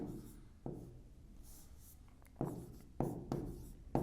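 Marker or chalk scratches on a board while working out a maths problem, coming in short close strokes separated by brief pauses.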